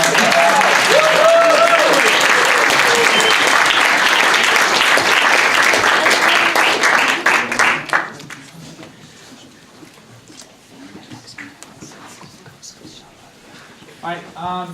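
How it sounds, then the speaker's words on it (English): Audience at a University of Michigan Peace Corps nomination and send-off party gives a loud, sustained round of applause that tapers off after about eight seconds into scattered claps and murmured voices. "let's give you another round of applause"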